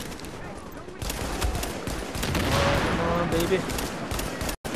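Rapid bursts of gunfire from The Division's Dark Zone crackle through a busy combat mix, dense and sustained, while a player talks over the shooting.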